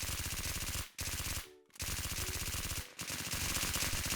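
Rapid automatic gunfire from charged weapons in a shooting video game, dense continuous bursts with two brief pauses, loud and close.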